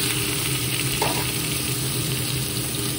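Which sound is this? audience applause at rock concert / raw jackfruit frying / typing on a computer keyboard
raw jackfruit frying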